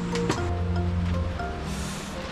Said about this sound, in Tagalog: Grabe yung hangin dito sa kubo ni Kuya Frankie.